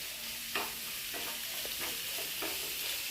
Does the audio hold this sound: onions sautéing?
yes